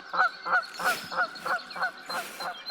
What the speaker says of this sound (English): darn goose